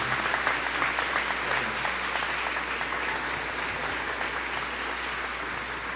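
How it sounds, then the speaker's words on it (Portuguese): A church congregation at a morning service applauds, a dense, continuous wash of clapping and cheering that stays loud and even, then tapers slightly toward the end. "Aplauda o Senhor"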